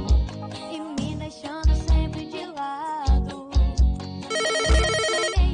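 A telephone rings in on a live web radio show, its ringtone chiming repeatedly over background music and becoming a dense, bright trill toward the end.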